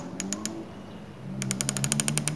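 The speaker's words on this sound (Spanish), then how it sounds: "Empezamos a darle los clics y el retículo tiene que empezar a bajar" A rifle scope's elevation turret is turned counterclockwise, giving three crisp, evenly spaced clicks, then after a pause a faster run of about ten clicks, close and fairly quiet over a low hum.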